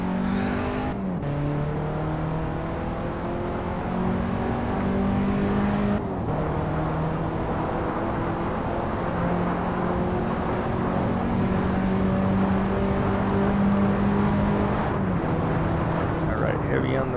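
A race car engine in a VR racing game drones and climbs through the gears with repeated upshifts, its tone rising and briefly dipping under steady play.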